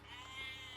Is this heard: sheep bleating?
yes